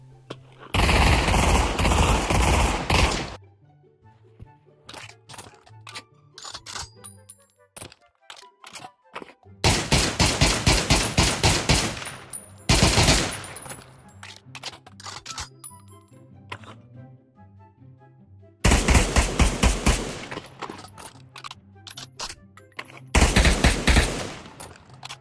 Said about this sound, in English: This is how some weapons sound like with the new sounds that were added.